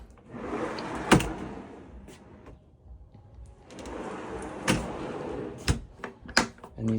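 Large pull-out storage drawers in a 2024 Mercedes Sprinter AWD camper van sliding open and shut, long rolling slides punctuated by several sharp thuds and knocks at close range.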